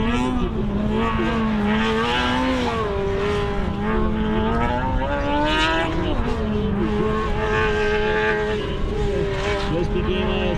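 Formula SAE race car number 34 revving hard under acceleration, a loud buzzing engine note climbing and dipping in pitch with a brief drop around the middle, close and continuous throughout.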